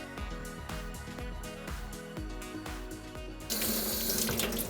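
Tap water runs into a sink while four mushrooms are washed, a rushing stream over faint music that swells into a louder, brighter gush near the end.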